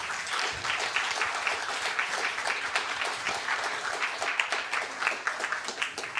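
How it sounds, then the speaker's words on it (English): Audience applause for conference panelists, a steady dense wash of many hands clapping that holds at an even level throughout, with no talk over it. "I want to give a warm applause to the panelists."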